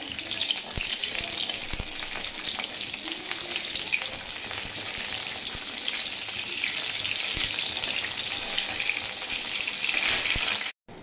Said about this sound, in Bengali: আটটা বাড়িয়ে দিয়ে বড়িটা ভেজে নেব।